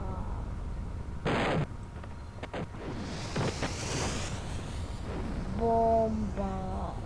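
Bomb explosions in the Roblox video game, a few loud booming blasts in sequence with rumbling tails, and electronic game tones sounding near the end.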